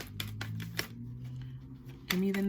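Tarot cards being shuffled by hand, with a run of crisp riffling snaps and flicks near the microphone, along with a low hum and a voice speaking beneath it.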